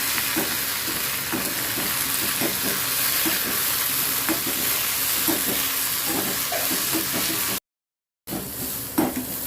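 Mint leaves sautéing in a pan for chutney, a steady close sizzle with soft stirring scrapes throughout, briefly cutting out near the end before the frying resumes.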